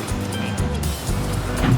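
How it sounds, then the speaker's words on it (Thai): An artificial waterfall in a temple garden at Wat Suan Kaew in Thailand gives off a steady, fairly loud rush of falling water, broad and continuous, with faint background activity. "ด้านขวามือ ก็คือน้ำตกจำลอง"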